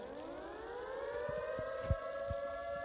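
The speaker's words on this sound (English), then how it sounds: "The nuclear warhead sirens was through the air." Nuclear warhead warning siren, a single rising wail climbing steadily in pitch over low dull thuds, loud and alone without voices.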